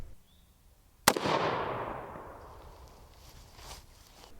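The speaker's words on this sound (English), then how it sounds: "Let's try the AR-15 again." An AR-15 rifle fires a single sharp gunshot at a polished aluminum foil ball outdoors, a sudden crack followed by a long rolling echo that fades over a few seconds.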